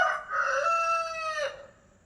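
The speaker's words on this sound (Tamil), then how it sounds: "கோழி கூவிருச்சு." A rooster crows once, loud and close, a single drawn-out call lasting about a second and a half with nothing else around it before it fades to quiet.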